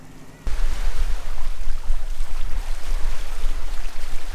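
Boat getting underway off Brookings, Oregon, near the Chetco River, with steady loud wind and wave wash beginning abruptly after a short quieter opening and continuing as a dense, rumbling roar.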